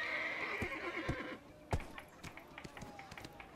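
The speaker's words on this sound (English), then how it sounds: "come on, you stupid horse, jump" A horse in the online game Black Desert Online whinnies loudly up close, then its hooves clip-clop in a quick, uneven run with sharp thuds, while a voice talks over it.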